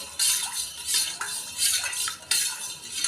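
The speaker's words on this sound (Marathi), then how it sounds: "आणि सगळं हलवून घेते, मिक्स करून घेते" A spoon stirs lemon juice with sugar in a container, making four close, scraping swirls with light clinks against the sides, steady and alone.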